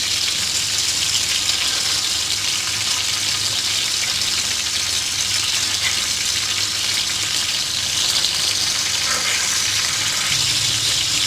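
Beef gola kebabs frying in a pan give a steady, loud sizzle with an even hiss throughout, a slight shift near the end as they are turned.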